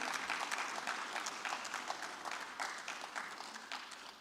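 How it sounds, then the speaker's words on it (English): Audience applause at a 2024 CEO summit, a steady wash of many hands clapping at moderate distance that holds evenly for the whole stretch, with no talk over it. "So I think that deserves a big round of applause."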